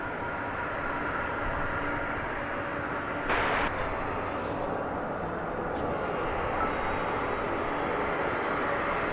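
American Airlines Airbus A321 jet arriving at Dallas Fort Worth airport, a steady broad engine roar holding throughout with a brief swell, under a voice talking.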